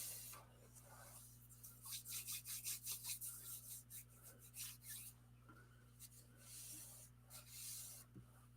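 Repeated rasping strokes of a file rubbing against paper, rhythmic and close, fading into lighter intermittent scraping over a steady low hum.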